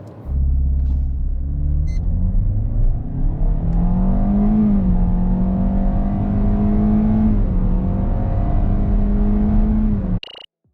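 A 2023 Kia Seltos with a 2.0-litre naturally aspirated engine and CVT accelerating hard from a standstill toward 100 km/h, a steady loud engine drone that climbs smoothly in pitch and holds for about ten seconds before cutting off.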